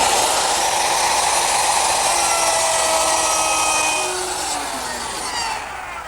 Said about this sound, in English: set up my plunge router with a 1/2 inch straight cutting bit. And it's as simple as following along the edge of the guide